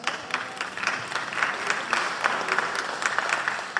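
An audience at a lecture bursts into clapping, a crowd of hands beating in a lively, uneven patter that holds steady for a few seconds.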